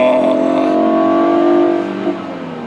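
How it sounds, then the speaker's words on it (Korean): Hyundai Sonata N Line engine in sport mode, heard from inside the cabin as a steady, strong revving drone with a rising pitch that eases off near the end, with no talk over it. "엔진 사운드 음까지 완벽하게 실내로 이제 밸런스 있게 들어오면서"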